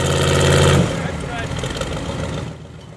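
An off-road buggy engine rumbles loudly and close for about a second, then drops to a lower, rougher running sound under background noise.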